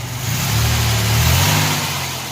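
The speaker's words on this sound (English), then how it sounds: "I don't want to rev it too much" A 1987 Chevrolet Celebrity Eurosport 2.8 V6 with a Magnaflow catalytic converter revs briefly, its engine note swelling up from a low rumble and easing back down, close and loud.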